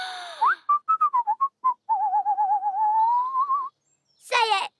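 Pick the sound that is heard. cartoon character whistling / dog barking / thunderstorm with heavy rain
cartoon character whistling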